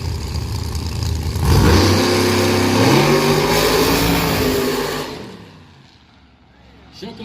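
A drag race car at Galot Motorsports Park during an Anything Goes Showdown, the engine roaring up loudly with rising revs as it launches, then fading into the distance, with an announcer talking over it.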